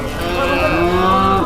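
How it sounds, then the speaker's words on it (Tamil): At the Vaniyambadi cow market, a cow lets out a single loud, close, drawn-out moo over busy market background noise. "இன்னைக்கு நிறைய மாடு வந்துருக்குது."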